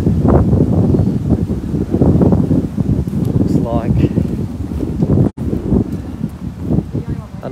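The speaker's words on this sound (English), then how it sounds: "this wind is annoying" Strong wind roars and buffets the microphone outdoors beside a flooded river with a paddle steamer nearby, steady and loud throughout, with someone talking over it.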